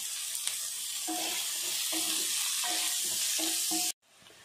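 Onions sautéing with salt in a pan for bitter gourd thokku give a steady close sizzle, with a short stirring scrape about every second; the sound cuts off abruptly near the end.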